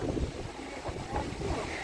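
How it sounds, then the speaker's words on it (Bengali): Strong gusty wind blows across a rooftop ahead of a storm as clouds gather, a buffeting rush that hits the microphone in uneven surges for about two seconds, with no voices. "দেখো কি পরিমাণ হাওয়া ছেড়েছে আর মেঘ করেছে"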